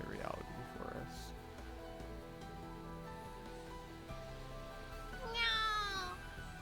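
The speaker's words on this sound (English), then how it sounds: "The cat responds to Michiru's call with a feeble croak. It's unmistakably that familiar meow." A cat gives a feeble, wavering meow near the end, a short rising-and-falling cry over a soft, sustained musical backdrop in The Fruit of Grisaia visual novel.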